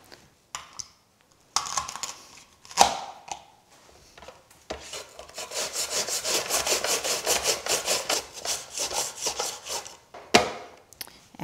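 An onion is sliced on a mandoline, producing fast rhythmic scraping rasps in a sustained close burst, preceded by scattered knocks and handling noises.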